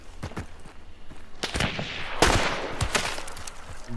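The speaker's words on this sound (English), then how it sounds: "the chaos bomb was going off up here" A chaos bomb goes off in Hunt: Showdown, a rapid irregular string of cracking, popping bangs like firecrackers, fairly loud and continuous over a rumbling background.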